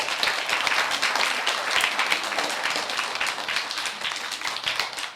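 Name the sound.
applause for performers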